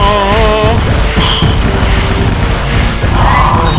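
A bomb explodes in the cartoon video game Kitten Squad, giving a short booming burst over steady, busy game music and effects.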